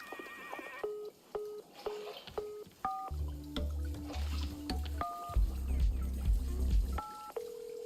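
A series of short electronic beeps like phone keypad tones plays in the video game Wanderstop. The tones step through different pitches in an uneven rhythm over a low game soundscape.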